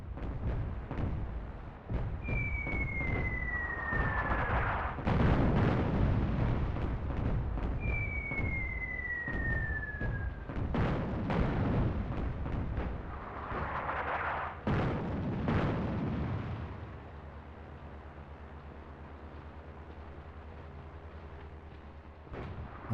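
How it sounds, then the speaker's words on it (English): Artillery bombardment in a North Africa real-time strategy battle: deep booming blasts and rumbling explosions roll on almost continuously at loud volume, with descending whistles of incoming shells above them, then the barrage thins toward the end. "These guys are getting bombarded"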